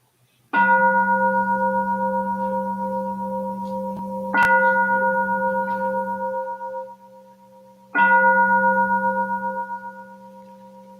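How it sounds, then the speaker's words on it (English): Three meditation bells are struck one after another to open a Buddhist ritual, each a clear ringing tone that lingers and slowly fades before the next strike. "So we start with three bells."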